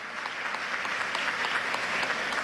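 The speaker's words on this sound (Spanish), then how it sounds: "quiero que le demos un aplauso de bienvenida" Steady, dense applause from a large audience, sustained evenly throughout with no voices standing out.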